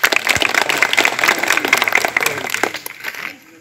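Audience applause fills a hall at a political meeting with union ward representatives for chairman candidate Sirajul Islam Mallik, a dense, steady clatter of many hands that fades away in the last half second.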